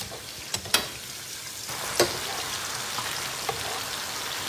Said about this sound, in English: We're gonna keep stirring these potatoes, sweet potatoes,